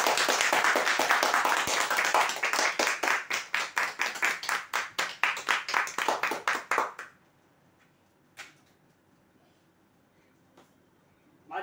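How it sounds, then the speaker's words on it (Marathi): A crowd at a lucky draw event claps loudly for the winners in fast, rhythmic bursts that stop abruptly after about seven seconds, leaving near silence with a couple of faint taps. "जोरदार टाळ्या होऊ द्यायच्यासाठी."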